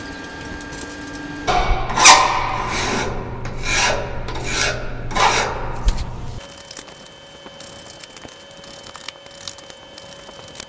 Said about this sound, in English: now I've got all the burrs off